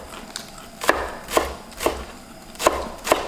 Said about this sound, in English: Scallions, you want to cut them small?